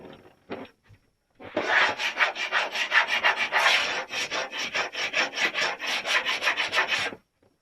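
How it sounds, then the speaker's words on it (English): A cheap little hand scraper scrapes loose material off an interior wall during a room makeover, giving a run of close, repeated rasping strokes in a quick uneven rhythm with no talk. "So this just scrapes everything clean"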